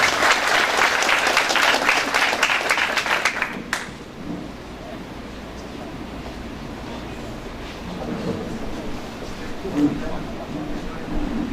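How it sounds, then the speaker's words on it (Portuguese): Applause from an audience at a public hearing on a 230 kV transmission line, loud, dense clapping for about four seconds that cuts off sharply, followed by quieter room murmur and low crowd noise. "Uma salva de palmas para Lielson."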